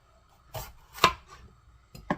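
A knife chops peppers for fajitas on a cutting board, three or four separate crisp, close cuts spaced irregularly with short pauses between them.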